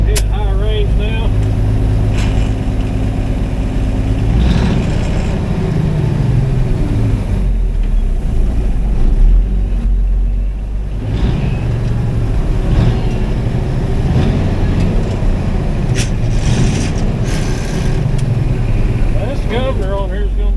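A Cummins-powered winch truck fires up and runs, its loud diesel engine rumbling steadily up close with revs rising and falling, while voices speak over it.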